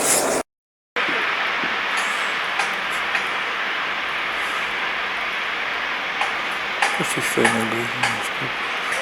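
Train at Łowicz Główny station, a broad steady rumble and hiss of a passing train, with a short dropout near the start and faint clanks later.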